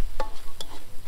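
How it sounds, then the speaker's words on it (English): Thai red curry sauce for choo chee fish reducing over medium heat in a wok, stirred with a few soft scraping strokes spaced about half a second apart over a quiet background. "we're just reducing the sauce"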